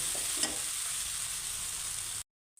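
Chilli powder and garam masala are stirred and frying in a pan, making a steady, close hiss of sizzling oil with a faint scrape of stirring early on, and then the sound cuts off abruptly.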